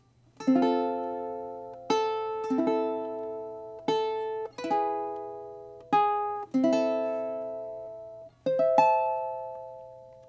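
Solo ukulele picked melodically, a plucked note or chord every second or two, each ringing out and fading, clear and close with no voices.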